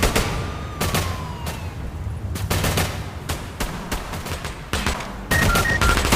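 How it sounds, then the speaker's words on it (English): Repeated bursts of video game gunfire in Battle Glide VR, during a police chase of a van, crack out in irregular volleys, loud and sharp, with a few faint high tones near the end. "you're going to hear sirens, and there's going to be cops chasing a couple dudes in a van, and there's gunfire"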